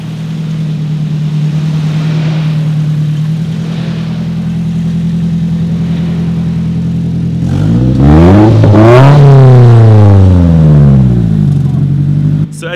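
At a car meet in Okinawa, a car engine idles with a steady low drone, then is revved hard several times, rising and falling in pitch before settling back to idle, loud and close.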